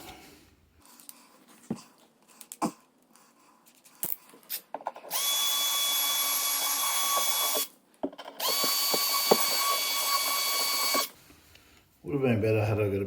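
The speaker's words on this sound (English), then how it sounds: "Would have been better had I got a bigger drill bit" A power drill bores into a skirting board in two long whining runs of about three seconds each, separated by a brief stop. Scattered knocks and handling noises come before them, and a voice speaks at the end.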